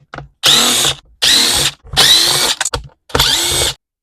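A power driver whirs in four loud, close bursts with brief pauses, backing T25 Torx screws out of the cover of an Echo leaf blower that won't start.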